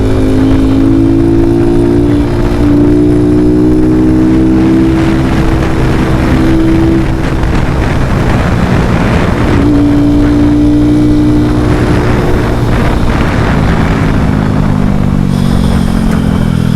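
First-person ride on a KPR 200 motorcycle during a lockdown, the engine droning loud and steady with harmonic pitch shifts as it revs up and down through the gears, with wind rush throughout.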